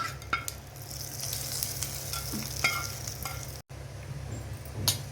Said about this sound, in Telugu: కాస్త వేగాక పచ్చడిలో వేసుకున్నామండి